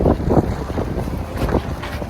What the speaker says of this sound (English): Progreso, why are you so cold and windy today?